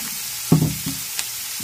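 Garlic and chopped onion hit a pan for a brief burst of frying, one loud sizzling clatter followed by quieter taps and a faint hiss, with no voices.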